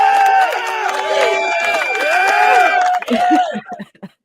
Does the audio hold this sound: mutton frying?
no